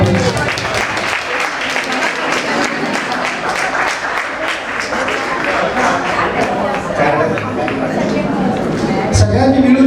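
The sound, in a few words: audience applause at a school reunion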